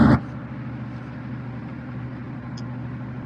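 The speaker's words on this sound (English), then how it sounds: "Sound like you in the car, bro." Steady low engine and road rumble inside a moving car heard over a phone line, a continuous muffled drone with a brief louder bump at the start and no talking.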